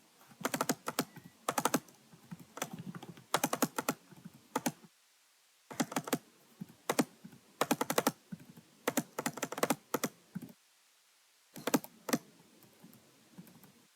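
Someone types an address into an online Italian student residence permit application on a computer keyboard, producing rapid bursts of close key clicks separated by short pauses, with no voices.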